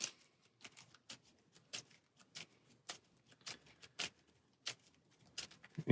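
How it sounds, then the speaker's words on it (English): Quick bursts of cards being shuffled for the Heroes of Tenefyr board game, a rapid uneven series of crisp riffles and taps, close and fairly quiet with no voices. "Shuffle these back in."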